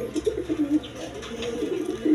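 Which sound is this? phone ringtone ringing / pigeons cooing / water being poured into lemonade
pigeons cooing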